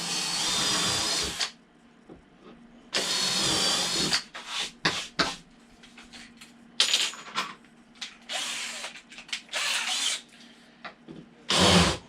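Power drill boring pilot holes for screws in wood for a bonsai backdrop build, loud whirring bursts of a second or so separated by pauses and short rattling handling noises.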